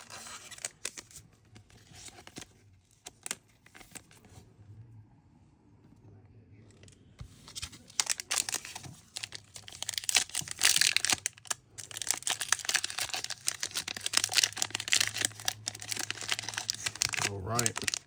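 Pokémon card booster packs are torn open, giving scattered crinkling and ripping of foil wrappers that grows busier and louder in the second half, with a short quiet stretch near the start.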